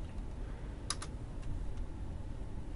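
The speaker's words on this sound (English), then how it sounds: "I'm going to open up a new tab, and I'm going to type in" Someone types on a computer keyboard, producing a quick burst of a few crisp keystrokes and then a couple of lighter clicks, close but faint over a steady background hum.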